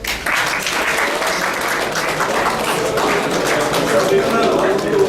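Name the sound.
audience applause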